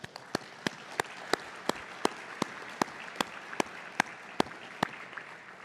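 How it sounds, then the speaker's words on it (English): A small audience at an author talk gives sparse clapping, a dozen or so distinct, evenly spaced claps over a soft background of scattered hands. "let's give them a round of applause"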